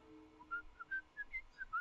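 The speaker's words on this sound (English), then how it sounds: "a mailman whistling as he put mail into the box in front" A mailman in the video game Perceptions of the Dead 2 whistles a quiet run of short, bright notes, about six in under two seconds, with no talk.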